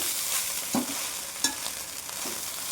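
Chicken fried rice stirred in a pan over high flame, with a steady sizzle broken by a few sharp spatula scrapes and clanks against the pan, heard close and without any talking.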